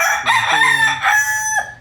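A four-month-old McLean and Miner blue gamefowl rooster crows once, close and loud, its drawn-out call rising and falling before trailing off.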